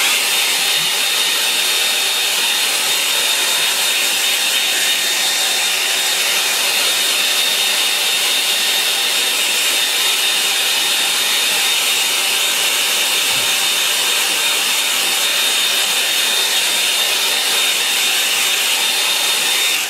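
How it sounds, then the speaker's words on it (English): A hair dryer blows steadily to dry a watercolour painting, a loud, unbroken rushing whoosh with a faint whine, close and continuous for the whole stretch with no speech. "I'm going to dry that off a bit"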